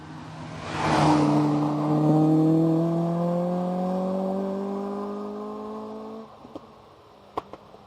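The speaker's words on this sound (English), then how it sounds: "Looks like the sports car's coming back for another go." Sports car passing near an airport, its engine note rising as it approaches and revving hard, then holding a steady whining drone while it drives past before cutting off, followed by a few faint clicks.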